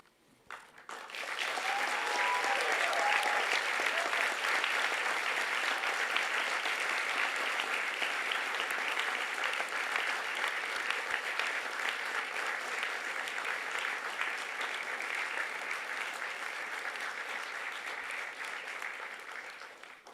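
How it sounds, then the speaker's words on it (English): Sustained, dense applause from a large audience at a university engineering and IT faculty graduation ceremony, swelling quickly and holding steady for about twenty seconds before tapering, with a few brief cheers near the start. "let them hear what a rousing round of applause can sound like"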